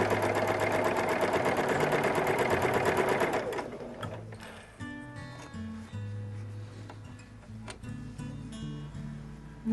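Sewing machine running steadily as it stitches a flying geese quilt seam, a loud continuous motorized whir for about three seconds that then stops, leaving quieter handling sounds and low hum.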